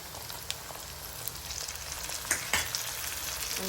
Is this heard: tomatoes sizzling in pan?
yes